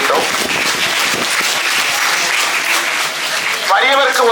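An audience at a Tamil school function claps steadily and loudly throughout, a sustained round of applause with a voice coming through near the end.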